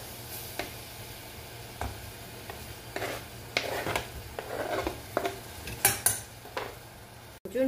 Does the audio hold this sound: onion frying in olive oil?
yes